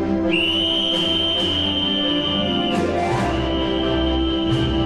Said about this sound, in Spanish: cosa que resulta sencilla porque el perrito está entrenado con un silbato